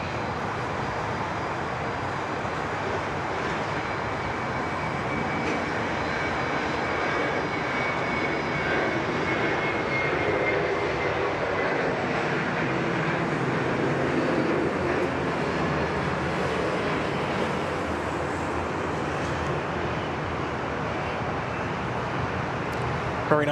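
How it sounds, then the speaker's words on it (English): An airliner departing Sydney Airport roars steadily for the whole stretch, a broad, sustained jet rumble heard from some distance that swells slightly in the middle. "Very nice departure."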